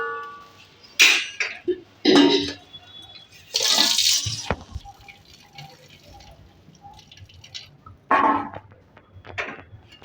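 Water poured into a thin curry simmering in a pan, heard as several short splashing, trickling bursts with quiet pauses between them and no talk.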